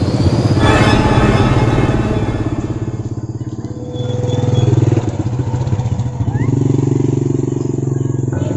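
A motorcycle ridden along a road, its engine droning steadily close by with rises and dips in revs, while people talk over it.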